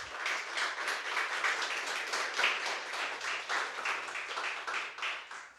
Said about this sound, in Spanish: Un aplauso para mi Dios.